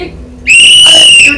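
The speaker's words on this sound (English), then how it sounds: "Good use of the whistle, Sonia." A whistle is blown in one long, shrill, sustained blast at a stage play, loud and close, cutting in after a brief moment of faint background sound.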